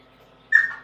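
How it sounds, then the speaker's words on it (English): A quail gives a single loud, clear whistled call that rises abruptly and trails off, standing out against faint background hum indoors near baby chicks. "What birds are making the loud sound? That is quail."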